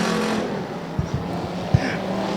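Race cars speed around an oval track, with a steady loud engine roar through the whole stretch and a few brief thumps, no voices.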